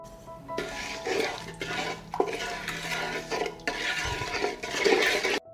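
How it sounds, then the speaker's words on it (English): A marinade with vegetable oil in a pan on the stove is stirred in repeated scraping strokes, a rhythmic swish and rattle of a utensil against the pan, fairly loud and close with no speech. "I will stir and wait for the marinade to boil."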